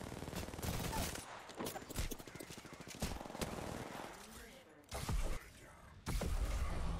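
Rapid video game gunfire bursts out in repeated loud volleys during a live-streamed match, with a player talking excitedly over the shooting.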